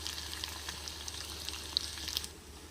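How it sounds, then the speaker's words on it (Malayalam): Onions for crab thoran sauté in a pan with a soft, steady sizzle and occasional tiny crackles and pops, heard quietly and alone. "നമ്മൾ ഉള്ളിയൊക്കെ നന്നായിട്ട് വഴണ്ടി വന്നിട്ടുണ്ട്"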